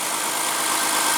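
A 2014 Lexus GS350 with a 3.5 L V6 engine idles in a brief, steady and even hum with a constant noisy texture.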